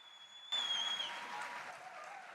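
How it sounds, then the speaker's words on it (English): Applause from an audience at an evening stage event in Jordan bursts in suddenly after a brief tonal fade and then holds as a dense, steady wash of clapping that eases only slightly. "Can we give them a big round of applause?"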